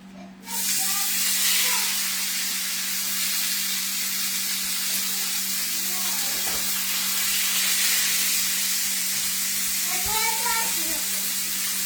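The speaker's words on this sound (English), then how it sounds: "I'm using olive oil to sear this." A roast searing in olive oil in a hot pan gives a steady, broad sizzle throughout, with faint clinks and shuffles and some quiet talk in the background.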